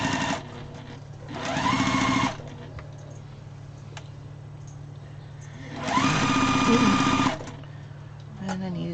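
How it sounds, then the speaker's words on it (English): A sewing machine stitches fabric scraps in two loud, even bursts of rapid mechanical whirring about four seconds apart, separated by a low quiet hum. "And just sew a bunch of these on."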